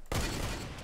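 A heavy sniper rifle fires once in Fortnite Battle Royale, a sudden loud crack followed by a booming, rumbling tail that fills the rest of the moment.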